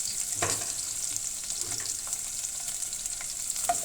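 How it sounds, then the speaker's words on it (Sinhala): Three or four garlic cloves fry in heated oil in a pan, a soft steady sizzle with faint crackles and an occasional stir, quiet and with no talking. "රත් වුණු තෙල් එකට අපි එකතු කරගන්නවා දීලුණු ගෙඩි 3-4"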